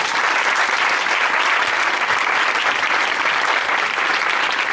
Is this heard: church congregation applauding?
yes